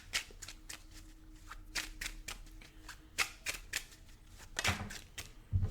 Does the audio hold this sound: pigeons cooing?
no